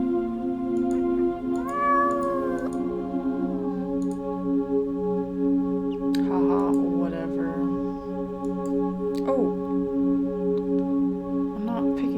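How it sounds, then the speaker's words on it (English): A cat meows several times, clear and close, with short rising and falling cries spaced apart over a steady background hum, along with a few light clicks. "There's a little kitty cat."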